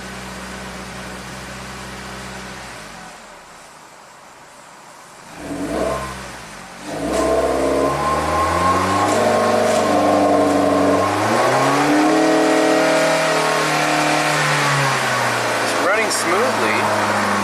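A 2008 Suzuki SX4 with a low-power fault and misfire revs unevenly, engine pitch rising and sagging as throttle is added, loud and close after a brief quieter idle, with a voice talking over it.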